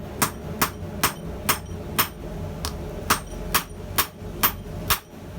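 Metal rivet heads are hammered freehand in a rivet header, about a dozen sharp, evenly spaced ringing hammer strikes ringing out close by, with no talk.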